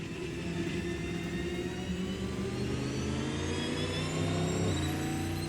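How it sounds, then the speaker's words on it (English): A deep V8 engine of a Cadillac V-Series.R race car in Assetto Corsa hums and rumbles steadily after leaving the pit exit, rising gradually in pitch as it accelerates, with no talking. "once you cross the pit exit line, it brings this big V8 to life."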